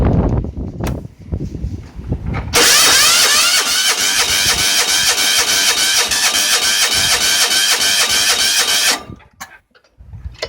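A truck engine cold-starts on a chilly day: quiet ticks and clicks, then a loud cranking that catches into a rough, rapid running rhythm for about six seconds before it cuts off abruptly.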